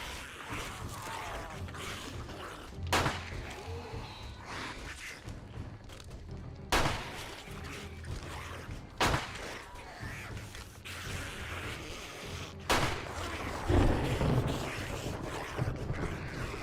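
Shotgun blasts in the video game 7 Days To Die go off as a handful of sharp, separate bangs spaced a few seconds apart over a low, rumbling background.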